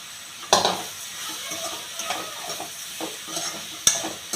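Vermicelli roasting in a hot pan for a vegetable semiya upma, with a steady close sizzle and several sharp scrapes and clinks of a spoon stirring against the metal.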